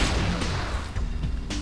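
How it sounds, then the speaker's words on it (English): Thresher robot in Descent 3 firing fusion cannons, heard as dense, loud, booming blasts that follow one another quickly over a rumbling game soundscape. "here we have the Thresher for the first time, armed with the fusion cannons"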